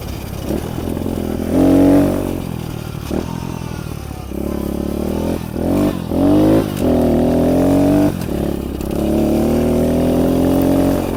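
Kawasaki KLX 110 motorcycle ridden along narrow bike paths, its small engine revving up and down through repeated throttle swells with some clatter, steady and close for the whole stretch.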